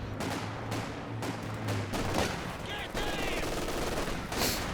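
Sustained gunfire from a Company of Heroes match: a machine gun fires from a building, with bursts of rapid shots and impacts layered over a dense, steady battle din.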